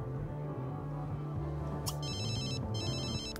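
Old standard house phone ringtone in The Sims 3, a bright electronic trill ringing in two bursts over the game's looping background music, fairly faint.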